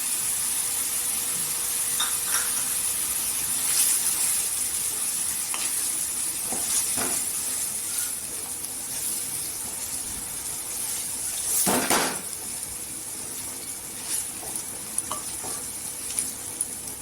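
Onion and coconut masala is sautéed in oil with softened tomato for a village-style brinjal curry, producing a steady hissing sizzle with intermittent spatula scrapes and clinks, including one stronger scrape midway, close, no voices.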